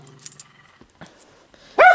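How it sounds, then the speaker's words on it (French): A dog gives a single sharp bark at the end while looking out a window indoors, preceded by quiet shuffling and faint clinks. "Mais on aboie en regardant par la fenêtre."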